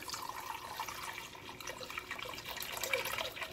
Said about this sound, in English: I just got some beef broth that I'm going to add to this.